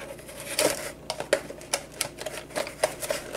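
A Leatherman Surge multi-tool cuts into a plastic blister pack, giving a series of sharp crackling snaps and scraping clicks up close, irregularly spaced over a soft background hiss with no talk.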